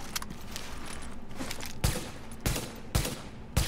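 Gunfire from the Tom Clancy's The Division game comes as several sharp, loud shots at uneven gaps, a fast burst near the start and then four heavy cracks spaced about half a second apart over low background noise.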